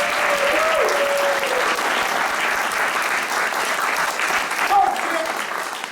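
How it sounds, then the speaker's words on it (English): A live audience applauds at the close of an improvised Law & Order parody comedy show, sustained loud clapping from a full room with a host's voice and whoops briefly over it. "Give yourselves a round of applause."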